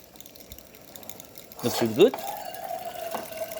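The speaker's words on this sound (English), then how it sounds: "And now we're going to test the hot water." Hot water starts to flow from a DeLonghi espresso machine partway through, a soft splashing, trickling stream with a brief hiss, while a voice briefly speaks over it.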